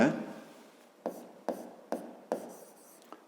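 A pen scratches on paper during a fifth-grade math exercise, several short strokes in quick succession, close and quiet, with faint breathing between them.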